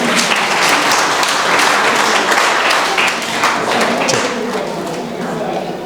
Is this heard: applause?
yes